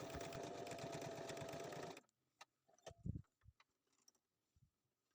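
A sewing machine stitches back and forth over window frames on a patchwork appliqué, giving a close, steady mechanical whir for two seconds before stopping, followed by faint scattered handling clicks.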